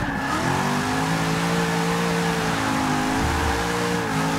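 Corvette C7 Z06 engine revs hard and steady while drifting on a track, a loud continuous roar with pitch wavering as throttle shifts, no talking over it.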